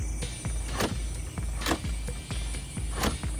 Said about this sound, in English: The loud central locking, it sounds like someone is breaking into the car or something is gonna break.